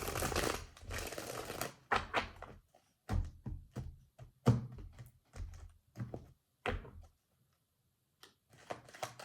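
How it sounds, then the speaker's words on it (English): A deck of tarot cards is shuffled up close: a dense riffling rush at the start, then a run of sharp taps and soft thuds as the cards are squared and cut, with no voices. "One more shuffle"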